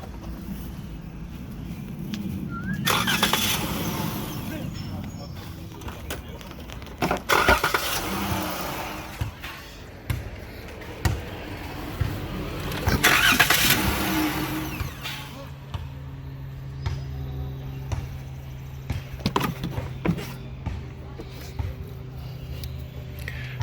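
A car with a no-start problem has its engine cranked several times in long whirring bursts, giving way to a rougher mechanical running sound, while people talk nearby.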